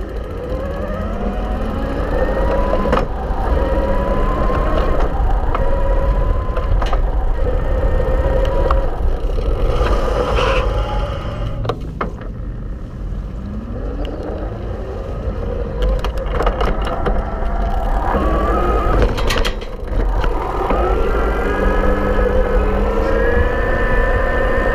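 Pedego City Commuter mid-drive e-bike motor under throttle while gears are shifted, a whirring motor whine that rises, drops and restarts between shifts over steady road and wind noise, with occasional clicks and rattles.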